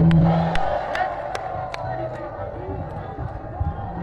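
A crowd gathered on an outdoor field at an Eid festival concert in Lalmonirhat greets a singer, with a dense, continuous wash of cheering and scattered claps. A voice carries over the crowd throughout.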